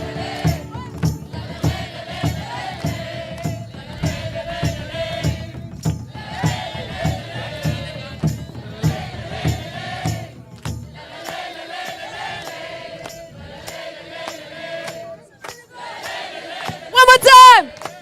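A crowd of people in Budapest shouts together on cue in repeated bursts, loud rhythmic group calls with pauses between them and a sharp high cheer near the end.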